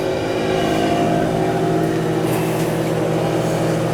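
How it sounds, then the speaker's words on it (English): Power venter fan on a newly installed gas boiler running up, a loud steady motor drone with tonal hum bands throughout, close and continuous. "there goes the power venter."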